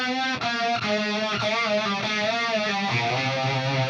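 Electric guitar run through a phaser effect on a Line 6 Helix, played alone as a continuous sustained line whose tone sweeps and swirls steadily, with a few picked note changes along the way.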